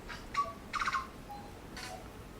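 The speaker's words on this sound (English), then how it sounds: "A tui." A tui calling in New Zealand's Raetea forest: a few clear, close whistles and rapid chirping notes in short bursts, separated by brief pauses over quiet forest background.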